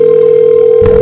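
A telephone dial tone sounds loud and steady on a single pitch, then breaks into a short noisy burst near the end.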